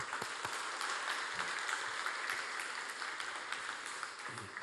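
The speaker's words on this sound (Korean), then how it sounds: "우리 하나님께 영광의 박수 한번 주시죠." Church congregation applauding during a Korean Sunday worship service marking a 20th-anniversary dedication: soft, even clapping from many hands in a large sanctuary, steady from start to finish at a fairly distant, low level.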